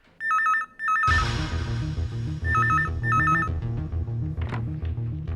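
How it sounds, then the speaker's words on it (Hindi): A telephone rings with two short bursts of electronic ringtone, then keeps ringing in repeated bursts beneath loud, dramatic music in a TV crime drama. "किसका फोन है?"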